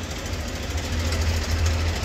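A Mahindra 265 DI MKM series tractor engine runs at idle nearby, a steady low diesel throb with a rhythmic knocking pulse and no talk over it.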